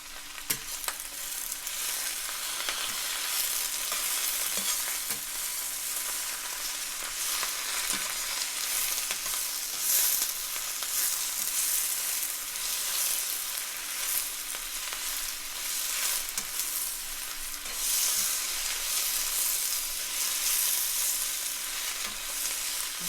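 Shrimp and vegetables sizzle steadily in a hot stir-fry pan, a continuous bright crackle with occasional soft knocks from stirring, no voices.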